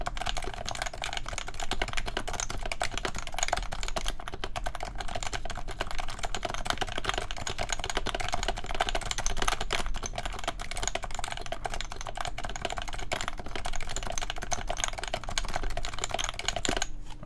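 Continuous fast typing on an electro-capacitive mechanical keyboard fitted with silencing rings, a dense, muted patter of close keystrokes throughout.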